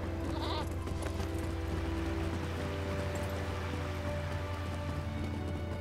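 A goat bleats briefly near the start, set against a steady hiss like rain and a low constant hum that lasts throughout.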